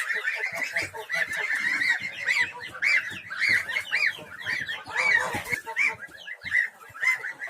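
Young goslings being weighed give rapid, close, high-pitched honking peeps that continue throughout in an uneven, anxious chatter.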